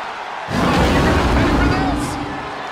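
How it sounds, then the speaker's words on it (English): Arena crowd in the WWE 2K20 wrestling video game erupts into a loud roar of cheering about half a second in, swelling and then holding under faint commentary. "What a raucous crowd here tonight"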